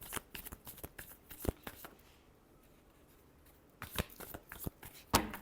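A deck of cards is shuffled up close during a zodiac card reading: two bursts of rapid riffling flutters and taps, separated by a quiet pause of over a second.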